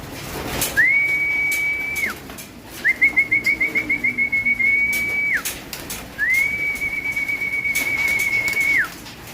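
Three long, steady high-pitched whistles calling pigeons to feed sound close by, one with a rapid trilling flutter. Faint birds and wing sounds are in the background.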